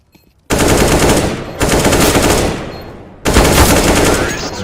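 Automatic rifle fire in CS:GO on the Dust 2 map rattles in three long, loud bursts, each a dense rapid stream of shots with brief gaps between them.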